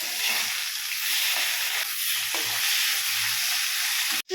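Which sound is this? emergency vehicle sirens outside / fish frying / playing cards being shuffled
fish frying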